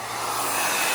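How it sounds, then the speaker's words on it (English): A hair dryer blows steadily while heating adhesive tape on the trim of a BMW M240i, a loud, close, continuous whooshing whir that rises slightly, with no talking. "since I don't have a heat gun, a hair dryer will do."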